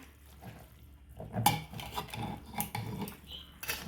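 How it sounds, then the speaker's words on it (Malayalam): Chunks of beef stirred with salt and turmeric in a pot for a home-style curry: a metal spoon scrapes and clinks against the pot in irregular strokes, fairly close and moderately loud, with no talking. "ഇനി ഇതൊന്ന് ഇളക്കി കൊടുക്കാം"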